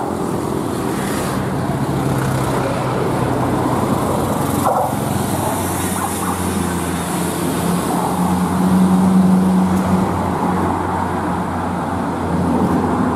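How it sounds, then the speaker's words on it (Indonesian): A truck in roadside traffic near a tour bus convoy to Ciwidey, heavy low engine drone and road noise holding loud and constant, with a deeper rumbling swell midway as it passes close. "Aduh, ada truk nih nutupin ."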